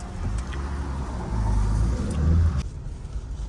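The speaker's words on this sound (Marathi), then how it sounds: "हे बघा या साईडला तर ट्रॅफिक आहेच आहे" Cars pass on a busy highway in traffic, a steady close rumble of engines and tyres on the road with a slight swell of passing vehicles before it eases to a quieter hum.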